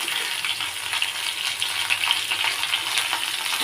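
Onion frying with vegetables, including potatoes, in a pan gives a steady, dense sizzle with fine crackles, continuous and close, with no voices.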